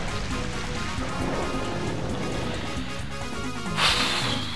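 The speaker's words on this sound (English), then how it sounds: "rain continues to fall." Continuous rain patters down during a Pokémon Colosseum battle, a soft steady hiss of drops mixed with in-game sounds and a brighter burst near the end, with no voices.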